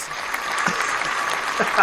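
A studio crowd claps in a steady, dense wash of applause for a guest's arrival on a live talk show, the clapping continuous and fairly close, with voices faintly mixed in underneath.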